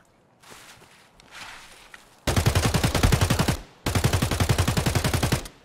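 Gunfire in Escape from Tarkov, starting with faint shuffling steps and then two long, loud, close bursts of rapid automatic fire with a short gap between them.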